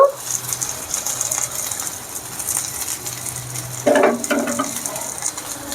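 Chicken pieces frying on a tawa, a soft continuous sizzle close by with faint scraping and a brief brighter burst of spitting partway through; no one speaks.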